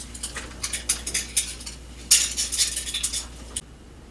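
Glass canning jars, metal lids and rings being washed at a sink: close, bright clinks and knocks in a rapid irregular patter over faint running water, stopping abruptly near the end.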